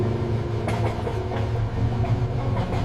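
A train running on rails, a steady low rumble with faint rhythmic clacks and rattles throughout, close and continuous with no talk.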